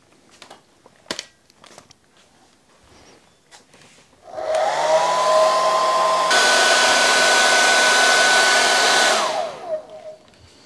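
A hair dryer is used to speed-dry a watercolor painting: after a few faint clicks, it switches on loudly, shifts to a higher speed partway, and blows steadily for about six seconds before winding down.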